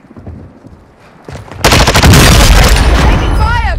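Sustained automatic gunfire in a multiplayer shooter video game rings out loud and dense after a quieter opening, with brief game voice lines nearby.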